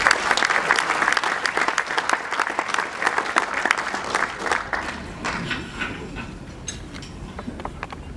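Audience at a softball awards banquet in Kamloops claps loudly and continuously, dense close applause that gradually thins and fades toward the end.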